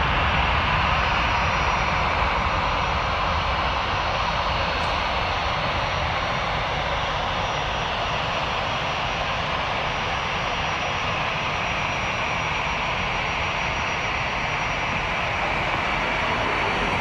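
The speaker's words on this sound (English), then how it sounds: "A320 will be joining us shortly on the taxiway" An Air Canada Airbus A320 jet taxis at Toronto Pearson airport, heard as a continuous, even engine whine and broad rushing roar at moderate distance, holding steady throughout.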